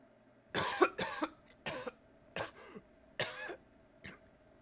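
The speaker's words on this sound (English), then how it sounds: "Sounds like a nasty cough" A series of raspy coughs and throat clears, about six bursts in uneven rhythm, fairly quiet and close, with silence between them.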